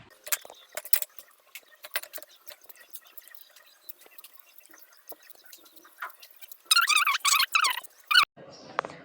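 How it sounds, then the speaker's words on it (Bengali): Raw green mangoes being peeled with a knife: scattered small scraping and clicking strokes, close and quiet, followed by louder bursts of rustling near the end. "কাঁচা আম নিয়েছি, আমগুলো আমি এখন কেটে ছিলে নেব।"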